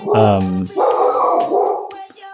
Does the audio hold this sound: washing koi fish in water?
no